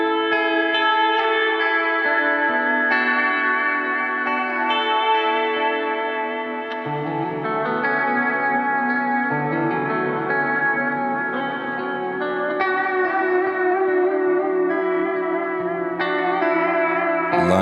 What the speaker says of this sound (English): So we've got some vibrato reverb here.